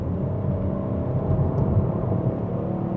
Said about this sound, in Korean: 가속 페달을 이렇게 딱 밟으면